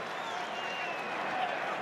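A rugby stadium crowd applauds player Tony Woodcock late in a South Africa versus All Blacks match, a steady broad wash of distant clapping and crowd noise with commentators talking over it.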